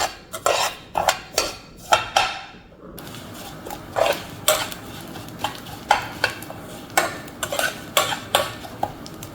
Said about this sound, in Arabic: ونقلبهم تقليبة حلوة في الزيت